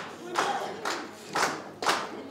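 Employees at a workplace bond-distribution ceremony applaud a colleague, four short, close bursts of hand clapping from a small group in quick succession.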